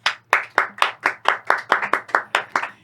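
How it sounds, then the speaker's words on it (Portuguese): Distinct hand claps, about a dozen sharp evenly spaced strikes, ring out as a studio audience welcomes a guest to a talk show discussion on the Israel–Palestine conflict, with a faint steady hum underneath and no talk. "Uma salva de palmas"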